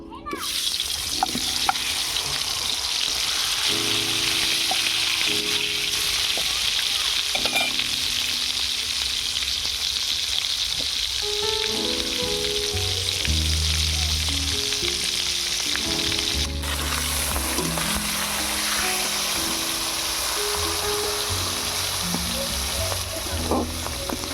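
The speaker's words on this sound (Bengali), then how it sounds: "এবারে মাছের মাথাগুলো ভেজে নেব" Rohu fish heads sizzle and crackle loudly in hot mustard oil, a steady, dense frying hiss that continues throughout, with faint low tones underneath.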